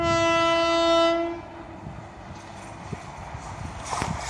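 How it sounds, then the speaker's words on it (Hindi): The Karnavati Express, the 12933 Mumbai Central–Ahmedabad service, sounds a loud, sustained horn as it races past at full speed, then the horn cuts off and the rushing roar and rattle of the passing coaches continue. "Karnati express full speed."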